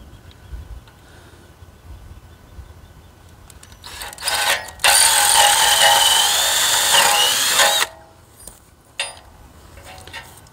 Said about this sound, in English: you just drill holes in there